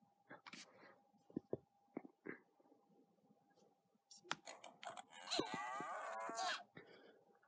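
A long cow moo from the Imagine: Babysitters video game sounds clearly for about two seconds, following quiet clicks and soft whispering voices.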